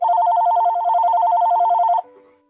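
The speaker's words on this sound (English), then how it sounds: "Phone's ringing again." A telephone rings loudly and close in a rapid warbling electronic trill lasting about two seconds, then cuts off to near silence.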